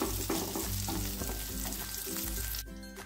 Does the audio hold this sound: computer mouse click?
no